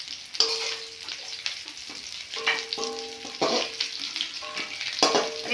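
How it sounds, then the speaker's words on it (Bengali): Shrimp fry in hot oil with a steady sizzle, broken by repeated clinks and scrapes of a metal utensil against the pan, close and with no talk. "এই দেখুন চিংড়ি মাছ ভাজা হয়ে গেছে, এখন আমি তুলে নেব"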